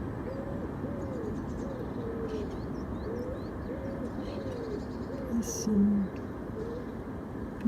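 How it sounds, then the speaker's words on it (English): A pigeon or dove coos repeatedly in a nearby tree, soft rhythmic low hoots repeating every second or so over outdoor ambience, with a brief spoken remark and a few faint distant chirps. "pigeon or dove cooing in a tree close by"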